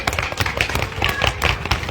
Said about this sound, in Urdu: لمحے کے لیے ذرا خاموشی رکھیے گا، صرف ماتم کی آواز ہو جائے